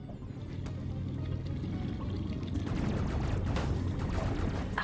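Samus wades slowly through water in Metroid Dread, with muffled, churning liquid sloshing and low rumbling movement building steadily over a few seconds, punctuated by brief sharp impacts.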